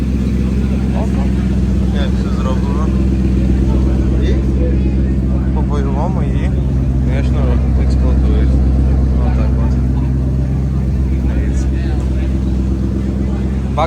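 V8 drift car idling and revving at a Los Angeles car show, a loud steady low engine rumble with occasional rises in pitch, under someone talking in the foreground.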